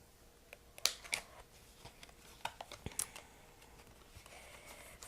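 Spring action craft scissors trimming a paper die cut, giving a handful of sharp, separate snips spread over the stretch, close and fairly quiet, with no talking.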